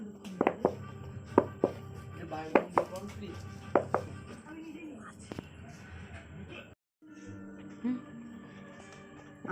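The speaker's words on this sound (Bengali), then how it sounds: "এটা ভালো করে মাখতে হবে খানিকক্ষণ।" Sweet dough being kneaded by hand with water, heard as a run of soft slaps and thuds in an irregular rhythm, then a quieter stretch, with a voice talking throughout.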